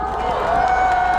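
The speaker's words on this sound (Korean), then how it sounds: "큰 박수 부탁드립니다." A crowd at an evening candlelight rally in December 2024 gives a dense, steady wash of applause and cheering, loud and close, held at an even level for about a second.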